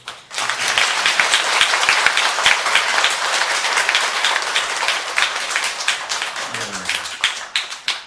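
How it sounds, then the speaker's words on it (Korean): A large audience at a Tibetan Buddhist Dharma talk at Dongguk University gives sustained, dense applause lasting several seconds, steady and loud before tapering at the end. "다시 한번 큰 박수"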